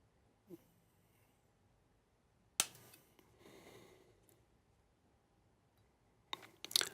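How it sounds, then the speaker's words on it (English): Flush cutters snip off component leads on a DIY FET microphone circuit board. Two sharp, close clicks come several seconds apart, with faint handling rustle between them and a small tap early on. "Now I'll go ahead and cut off my leads."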